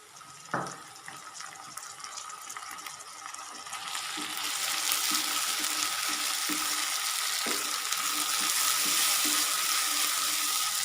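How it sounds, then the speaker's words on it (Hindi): Onions and red tomatoes fry in a pan, a steady hiss that swells into a loud, continuous sizzle, with a few soft knocks of stirring near the start and no talking. "तो लाल टमाटर और प्याज अच्छे से फ्राई हो चुके हैं"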